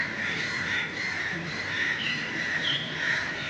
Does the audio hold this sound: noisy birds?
yes